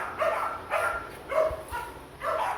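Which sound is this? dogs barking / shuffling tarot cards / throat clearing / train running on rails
dogs barking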